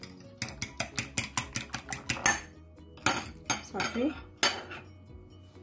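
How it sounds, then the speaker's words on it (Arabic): Eggs beaten with butter using a fork in a bowl: a quick run of sharp, regular clinks of metal against the dish, then looser scraping and knocks, close and fairly loud, with a brief word spoken. "وغادي نضربهم هكا غير بالفورشيط"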